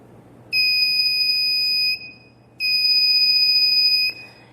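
Two sustained high-pitched electronic beeps from a conductivity tester placed in hydrochloric acid, each lasting over a second, with a steady low hum underneath.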